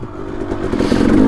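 A Kawasaki KLX140RF dirt bike climbing rocky single track in Payson Canyon, Utah, its small engine revving and rising in pitch over a brief stretch, loud and close with a rattle from the rocks.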